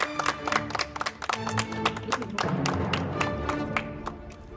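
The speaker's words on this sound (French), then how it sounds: "on applaudit s'il vous plaît" Audience applause for a team on a French cooking competition show, lively clapping from a modest crowd with distinct individual claps, steady for several seconds as a voice talks under it.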